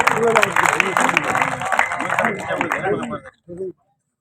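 An audience at a Hindi poetry recital in Gangapur City claps and cheers together in a dense burst of applause that gradually thins and fades, ending with a short final spatter.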